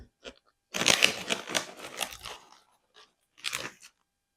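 Sweet popcorn is chewed close up in loud crunchy bursts, one long stretch of munching followed by a few shorter crunches, with quiet pauses between and no talking.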